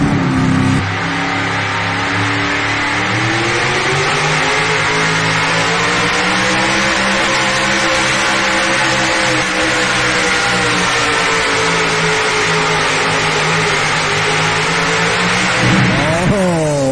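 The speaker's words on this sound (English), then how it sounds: "The big Ford, 484 cubic inches. Big block Ford east of Shelbyville." A pulling tractor fitted with a 484 cubic inch big block Ford engine roars at a truck and tractor pull event near Shelbyville, Tennessee, holding a loud sustained rev with wavering pitch before rising sharply at the end.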